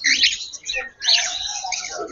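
Pet cockatiels kept for sale chirp and whistle in quick bright bursts, close and fairly loud, with a short break midway.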